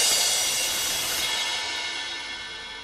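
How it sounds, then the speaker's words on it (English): A single hit through an audio compressor effect, bright and loud at first, then decaying into a long, thin ringing tail that fades over a few seconds. "get this really long tail end of just like a weird like ringing sound"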